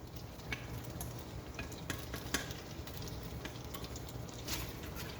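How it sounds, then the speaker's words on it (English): Hot pasta being stirred with egg and cream over low heat, a quiet mix of faint sizzling and scattered light clinks and scrapes of a utensil in the pan, fairly soft throughout. "Stir that around, keeping the heat low."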